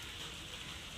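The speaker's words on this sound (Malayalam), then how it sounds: "പക്ഷേ മഴ വീണ്ടും പൊടിക്കുന്നു" Steady rain falls in a dense, even hiss with no breaks, moderately loud and close, with no voices over it.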